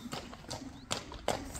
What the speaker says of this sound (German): Und da vorne ist ein Pferd. Ohne Besitzer. Der rennt hier rum.